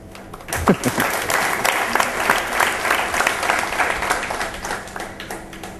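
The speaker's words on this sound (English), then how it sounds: "And now, an applause for the contestants." A crowd at a Toastmasters evaluation contest claps steadily for the contestants in sustained applause that holds at an even, fairly loud level for several seconds.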